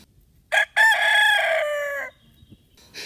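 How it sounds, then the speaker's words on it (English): A rooster crows once, loud and close: a short opening note, then a long drawn-out call, followed by faint clucks and a brief start of another call. "Roosters."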